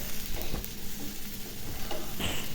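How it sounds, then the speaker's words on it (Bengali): Tuna fish kebabs fry in a pan, giving a steady crackling sizzle with a few soft stirring scrapes, close and moderately loud. "এটা ভালো করে ভেজে নিব এখন।"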